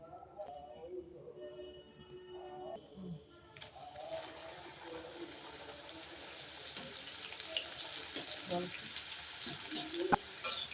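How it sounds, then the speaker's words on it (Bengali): Strips of nimki dough fry in hot oil, with a bright bubbling sizzle that swells up a few seconds in and keeps building, a voice and soft kitchen sounds heard beforehand, plus a scrape near the end. "দিয়ে দিয়েছি নিমকিগুলো এবার ভালো করে নাড়তে থাক নাহলে জড়িয়ে যাবে"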